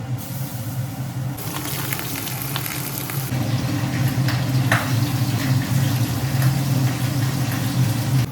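Mung dal tipped into a hot, slightly burnt oil tempering for khichuri sizzles loudly and steadily, a close continuous frying crackle with a low hum beneath and occasional stirring scrapes.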